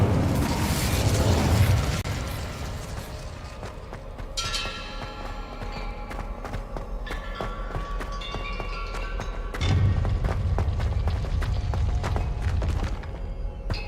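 Confringo and Incendio fire spells in Hogwarts Legacy, blasting loudly with booming bursts near the start and again later, separated by a stretch of crackling mechanical rumble.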